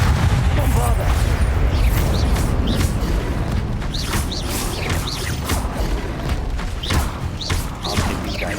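The Bombarda blasting spell in Hogwarts Legacy sets off heavy booming explosions amid continuous battle noise, with repeated sharp impacts and rumbling bursts layered over a player's voice.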